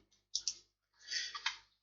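A computer mouse clicks sharply twice, followed by a softer rattling click sequence and another click, close and isolated in a quiet room.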